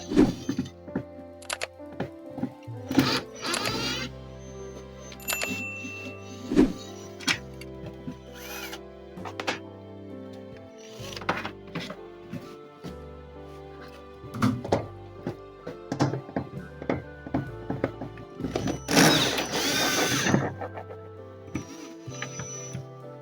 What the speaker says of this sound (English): let's take out these screws here